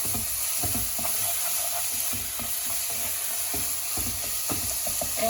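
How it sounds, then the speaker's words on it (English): Ajwain seeds frying in hot oil in a pan while being stirred, a constant sizzle broken by repeated spoon scrapes and taps, close with no talking. "To that I'm going to add a teaspoonful of ajma seeds. Give it a stir."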